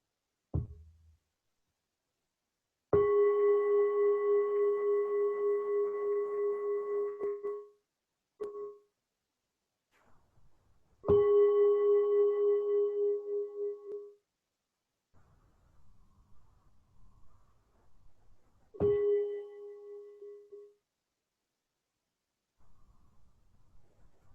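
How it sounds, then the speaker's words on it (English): A mindfulness bell is struck three times during a meditation session, each strike a clear ringing tone that sustains for several seconds and fades. Quiet gaps separate the strikes. "I'm going to invite 3 sounds of the bell"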